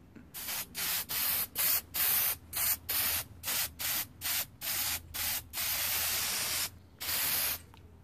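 A spray can lays an enamel coat on a Chevy Volt grill with a quick series of loud, close hissing bursts, then a couple of longer sustained sprays.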